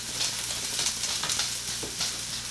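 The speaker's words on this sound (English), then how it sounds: "we're just going to kind of get a nice little stir fry on there" Thai green curry meatballs with zucchini noodles sizzle and fry in a pan over medium heat, a continuous close crackle with soft stirring scrapes and no talk.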